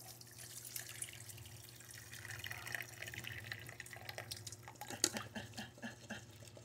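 Aloe vera liquid poured into a bowl, a steady close trickling, splashing stream with small drips and clinks, running continuously and quietly throughout.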